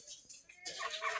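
Local desi rooster clucking and calling close by in a rural backyard flock, a few short bursts with a louder, raspier run of calls in the second half.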